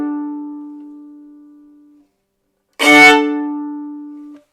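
A violin sustains one bowed tone that fades out, then after a pause a strong three-note chord is struck and rings before stopping abruptly.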